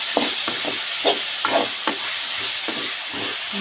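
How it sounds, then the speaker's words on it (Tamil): Onions and tomatoes sautéing in hot oil for a brinjal and dried-fish thokku, a steady close sizzle broken by repeated scraping stirs of a spoon against the pan, no voices. "தக்காளி நல்லா வதங்கணும்."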